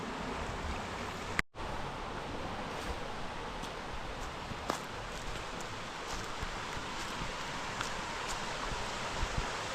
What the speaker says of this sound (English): Look at this beautiful creek.